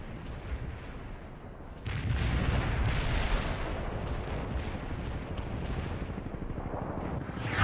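An artillery fire-support strike in the World in Conflict strategy game, a dense, rumbling barrage of distant explosions that swells suddenly and rolls on continuously, with sharper blasts breaking through.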